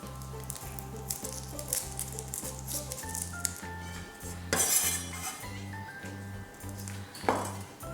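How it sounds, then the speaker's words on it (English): A knife slicing ginger and smashing garlic cloves on a board for a Chinese tomato beef stew: light clinks and taps, with a sharper burst of knocks midway and one more near the end, over steady background music. "slice up 4 to 5 slices of ginger, 4 to 5 cloves of garlic, smash to remove the skin"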